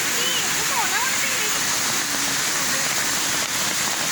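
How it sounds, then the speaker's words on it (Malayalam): Heavy rain pours in a dense, constant roar with no let-up, a voice faintly audible beneath the downpour. "ഇപ്പോൾ നല്ല മഴയാണ് കേട്ടോ"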